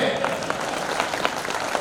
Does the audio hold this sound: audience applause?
yes